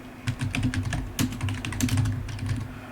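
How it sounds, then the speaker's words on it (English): Rapid bursts of keystrokes clatter on a computer keyboard as code is typed, close and crisp, with uneven rhythm and brief pauses between runs of keys. "I'm just going to type in"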